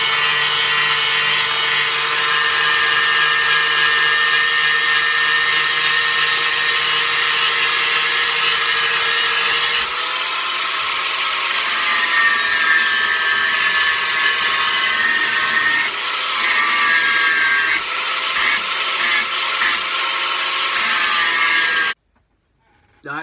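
Steady, loud grinding of the edge of a Viking seax knife being made from an old file, a continuous abrasive whine that briefly dips and then resumes in short bursts before cutting off near the end.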